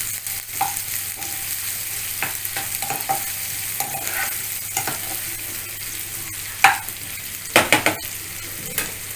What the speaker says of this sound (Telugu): సో ఆనియన్స్ ఫ్రై అవుతుంటాయి.